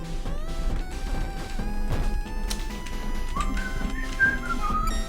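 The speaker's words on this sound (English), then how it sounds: "Whistling a different song than the one that's playing?" Someone whistles a melody over busy background music with thumps and crashes, the whistled notes rising and falling at moderate loudness.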